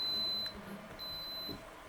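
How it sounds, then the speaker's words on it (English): Two clear electronic beeps from a heat press reaching temperature, each a sustained high-pitched tone lasting about half a second, separated by a brief pause, in a quiet room. "once it's up to temperature, it will beep."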